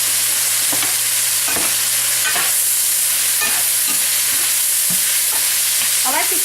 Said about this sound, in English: I like to fry my meat really good